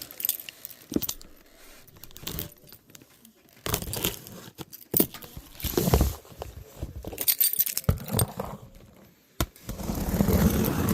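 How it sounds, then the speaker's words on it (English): Keys scraping, jangling and tearing at tape and cardboard on an electric furnace box, in irregular bursts of crinkling and clinking, close and fairly loud. "I will try to use my keys. See if I can open it."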